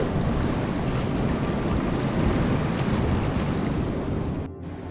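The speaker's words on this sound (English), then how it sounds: "it was cool to see these waves and how they just interacted with the stones" Sea waves break and wash over stones along the shore at dusk, a loud continuous roar of surf mixed with wind buffeting the microphone, cutting off abruptly near the end.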